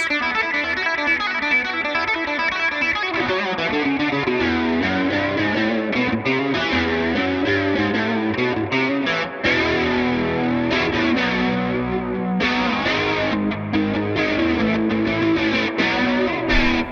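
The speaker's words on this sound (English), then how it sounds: "ran a chorus into a flanger and could sound a little something like this" An electric guitar plays through heavy overdrive with a chorus pedal into a flanger, a swirling, sweeping modulation effect, dense and loud throughout, with no talking.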